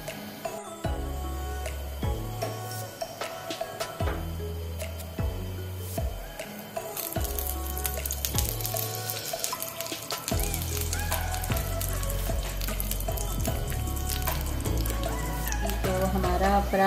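A sweet makki roti paratha fries in extra virgin olive oil on a pan, crackling softly while rhythmic low thumps recur throughout and the sizzle thickens toward the end.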